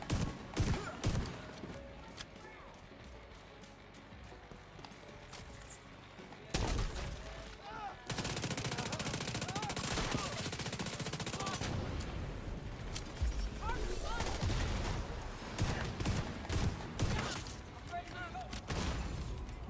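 Shotgun and other gunfire in The Division 2 during a firefight, dense bursts of sharp blasts and crackling shots layered with impacts, loud and near, with voices talking over the combat.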